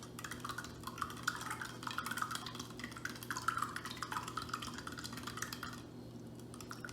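Sugar being stirred into water to dissolve it, with a steady swirling and scraping of a utensil against a glass container under a constant background hum, close and continuous, with no talking.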